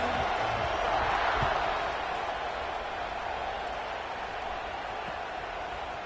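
A large football stadium crowd roars at kickoff, a broad, sustained wall of cheering and noise that peaks early and then holds steady at a slightly lower level.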